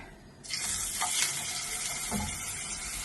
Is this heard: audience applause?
no